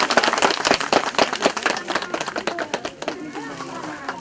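Audience applause greeting a certificate presentation at a formal program during a Bhagavat Puran recital in Listikot, Sindhupalchok; dense clapping fills the opening three seconds, then thins into scattered claps with a voice in the background.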